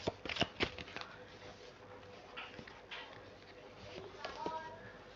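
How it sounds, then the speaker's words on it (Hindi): Tarot cards shuffled by hand in a run of quick riffling, flicking bursts, loudest at the start, then softer rustles and card slaps close by, with no voice over them. "तो मैं एक बार और शफल करूंगी और उसके लिए मैं एक कार्ड निकालूंगी।"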